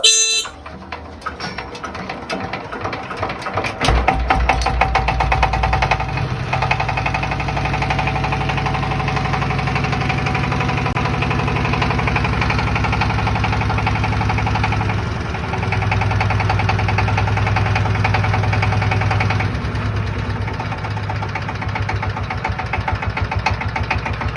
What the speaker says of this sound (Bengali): চলুন আপনাদেরকে ইঞ্জিনের সাউন্ড কোয়ালিটি শোনাই স্টার্ট দিয়ে